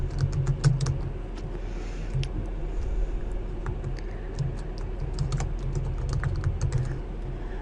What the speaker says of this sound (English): We type in a name here